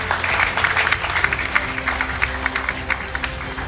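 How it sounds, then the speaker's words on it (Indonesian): Applause from a studio audience of young people and university students at a televised democracy talk show, a crowded patter of many hands with a few sharper claps standing out throughout. "Boleh tepuk tangan untuk BHS?"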